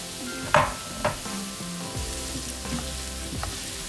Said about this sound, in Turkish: Soğanlarınız kavrulsun. Renk almaya başladı.